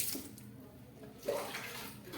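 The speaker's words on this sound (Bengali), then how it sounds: "মাছটাকে একটু ভালো করে ধুয়ে নিই।" Water splashes and pours as a bata fish is washed by hand, a close, short, continuous watery rush with a slight surge midway.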